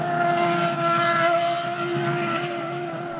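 A BMW Williams FW26 Formula 1 car's V10 engine screams at a sustained high pitch, loud and steady, with a slight rise and fall as it passes.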